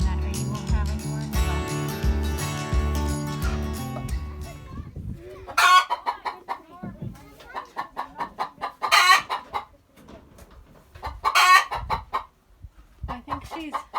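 Backyard chickens near a chicken coop on a family homestead, several loud close bursts of clucking and squawking following an opening stretch of tonal voices and noise, with people talking at points.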